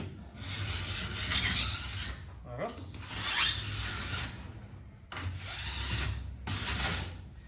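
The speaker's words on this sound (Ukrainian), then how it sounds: "Ще орієнтуйтесь по звуку, як проходить канторіз, і по тому, чи є струшечка" Ski edge sharpener run along the steel edge of a ski: four long, close, harsh rasping strokes with short pauses between them, and one brief spoken word.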